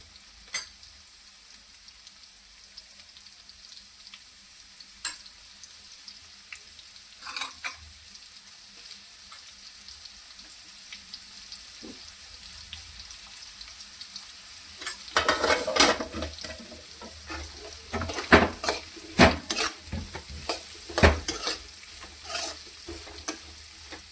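Onions frying with turmeric in a pan for kheda bhaji, a steady low sizzle that turns louder and busier midway as the pan is stirred, with scraping clatter and crackling bursts.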